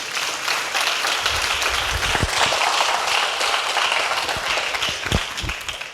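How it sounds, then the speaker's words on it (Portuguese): A church congregation applauds during a service, a steady roar of many hands with a few sharper nearby claps standing out, continuing for several seconds. "Vamos aplaudir o nome dele?"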